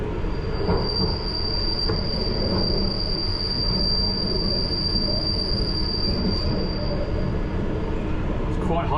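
A London Underground Piccadilly Line train squeals steadily on its wheels, a thin high-pitched whine held above a loud, continuous rumble of the moving carriage throughout.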